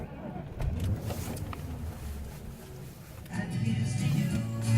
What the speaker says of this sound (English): I'm gonna film myself driving home